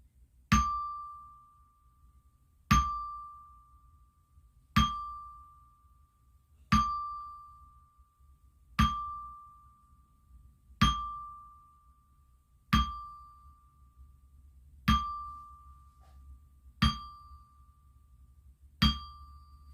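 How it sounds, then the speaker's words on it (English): A ten-bell salute at a wrestling event: ten single metallic bell strikes at an even pace about two seconds apart, each ringing clear and then fading, with a low hum underneath and no talking. "Let's do a 10-bell salute for Sensational Sherri."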